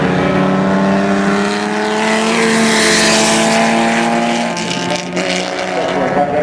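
A race car sweeps through a corner at a speed festival, its engine loud and sustained with a steady high-pitched drone that rises and falls slightly as it passes, then fades a little.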